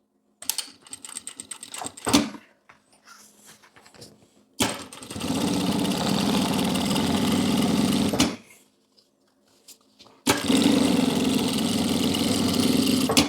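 A sewing machine topstitches along both sides of fabric. Its motor hums in loud, steady runs of a few seconds each, separated by quiet pauses and light handling clicks.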